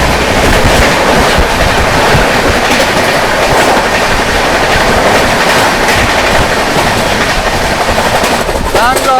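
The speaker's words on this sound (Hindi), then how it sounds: "सामने से आती हुई हजरत निजामुद्दीन से चलकर बैंगलोर की ओर जाने वाली बैंगलोर राजधानी" Bangalore Rajdhani Express passing at a crossing, a loud continuous rush of wheels and rail clatter filling the whole stretch, with a brief squeal near the end.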